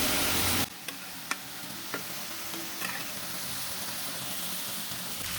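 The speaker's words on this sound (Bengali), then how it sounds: "কাঁকড়াগুলো সুন্দর ভাজি হয়ে গিয়েছে" Crabs fry in a pan as they are stirred, a loud burst at first settling into a continuous sizzle, broken by occasional clanks of the stirring utensil.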